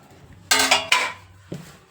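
A plate and spoon clatter while food is served, three quick ceramic-and-metal clinks followed by a softer knock, close by in a quiet room.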